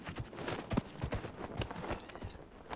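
A horse's hooves clip-clop in the video game Dragon Age: Inquisition, a faint, fairly quick, irregular run of hoofbeats on the ground.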